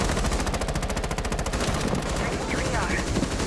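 Automatic gunfire in Rainbow Six Siege hammers out a fast, evenly spaced burst for about two seconds, loud and near, then gives way to scuffling action noise.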